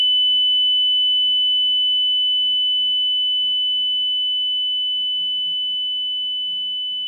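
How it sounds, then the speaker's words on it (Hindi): Buzzer of a Cook's pole climbing apparatus used in a sedative drug evaluation on a lab animal, sounding as one steady high electronic tone held for about seven seconds, with faint scattered low clicks and hum beneath. "प्रेस बजर पे क्लिक करते हैं।"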